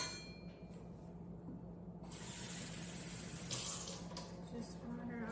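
Water is poured into a pan holding butter for a chocolate cake batter, a soft rushing flow that rises after a quiet start and runs steadily to the end.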